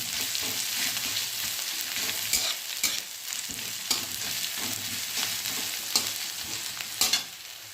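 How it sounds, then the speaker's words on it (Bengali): Onions frying lightly in a pan during home cooking, giving a steady close sizzle with scattered utensil clicks and stirring scrapes throughout, no talking. "পেঁয়াজটা হালকা করে ভাজবো"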